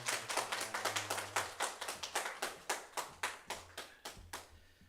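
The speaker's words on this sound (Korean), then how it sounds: "박수 주세요" A church congregation clapping for a scholarship presentation: a steady run of sharp, fairly even claps at moderate distance, about three per second, fading out at the end.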